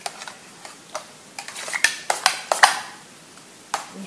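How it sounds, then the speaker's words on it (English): A spoon stirring thick homemade Greek yogurt in a bowl, heard as a series of light clinks and scrapes against the bowl, sparse at first and then clustering into quicker taps near the middle, with no voices. "You just give that a stir."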